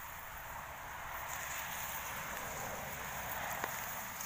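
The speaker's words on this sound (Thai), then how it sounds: "ฝนตกนะครับ" Rain falls steadily outdoors, an even hiss of drops spread across the whole stretch with a low rumbling bed underneath and one brief sharp tick near the end, no voices present.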